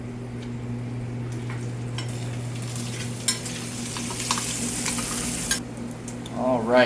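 Bacon renders in a pan for spaghetti carbonara, giving a steady close sizzle with a low hum underneath and occasional stirring scrapes, then brief clatter near the end; no talking.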